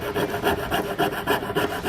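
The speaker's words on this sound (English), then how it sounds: "first time with the jeweler's saw" A jeweler's saw cuts through the hood of a model car in quick, steady back-and-forth rasping strokes, close and continuous with no talk.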